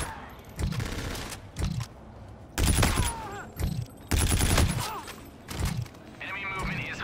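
Video game gunfire in an Infinite Warfare match comes as repeated bursts of rapid shots and heavy thumps, loud and close, with in-game voices and radio chatter between volleys.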